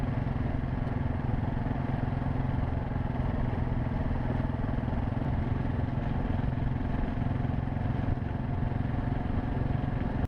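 A vehicle drives across the flat Mongolian steppe, its engine a continuous, even, close rumble with steady rattling and no breaks or speech.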